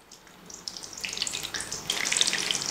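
Potato french fries half-frying in hot oil over medium heat, a steady crackling sizzle that grows louder and denser toward the end, with no voices.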